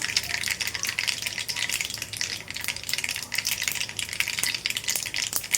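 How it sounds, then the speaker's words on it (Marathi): Mustard seeds spluttering in hot oil for a tempering while cooking a Bhogi mixed-vegetable dish, a steady dense crackle with sharp pops throughout, close and fairly loud, with no voices. "आता आपलं तेल गरम झाले ह्यामध्ये आपण फोडणीला आता मोहरी घालूया मोहरी तडतडली"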